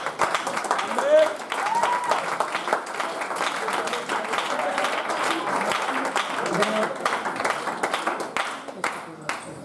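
A church congregation claps through a worship service, brisk uneven applause continuing for nearly ten seconds, with scattered voices and a few cheers mixed in.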